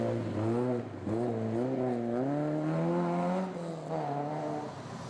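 A Volvo 142 rally car at the Legend Boucles de Spa drives hard, its engine droning loudly with rising and falling revs through gear changes, one brief lift near the start, and no voices over it.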